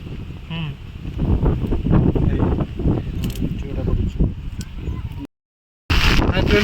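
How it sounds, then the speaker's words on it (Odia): Strong storm wind buffets an umbrella outdoors during a stormy fishing outing, producing a loud, continuous roaring rumble over which a person talks throughout, with a brief dropout near the end. "ଦେଖିପାରୁଛନ୍ତି ମାନେ ବର୍ଷା ଜୋର ମାନେ ପବନ ଯୁଆଡ଼େ ହେଉଛି ମାନେ ଛତାଟା ପୁରା ଓଲଟିବାର ଲାଗିଛି ପୁରା"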